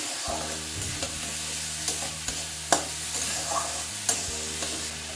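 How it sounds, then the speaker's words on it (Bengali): Moong dal being stirred in hot oil in a pan, a continuous close sizzle broken by several sharp scrapes and knocks of the spoon, without any speech. "ডালটা একটু তেলের মধ্যে জাস্ট একটু নেড়ে নিচ্ছি"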